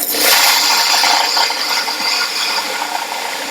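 A Canyon 1500 commercial coffee grinder running with its gateway opened, giving a loud, steady grinding and rattling whir of beans throughout, close up with no talk.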